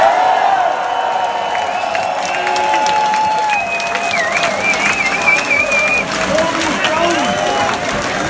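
A rock concert audience at the Melkweg venue applauding and cheering, a dense, sustained wash of clapping with whoops and whistles rising over it, close and loud throughout.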